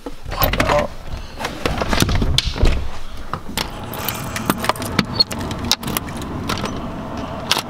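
Keys jangle and rattle close by while a door is locked at night, busy metallic clinks and clicks over several seconds with passing road traffic audible in the background.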